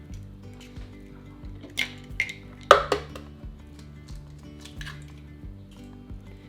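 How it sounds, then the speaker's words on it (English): Sourdough Dutch baby batter being mixed in a bowl: quiet, wet squishing with a few light clinks of utensil against the bowl, one sharper tap in the middle, all fairly soft and close. "we're gonna go ahead and mix up our Dutch baby"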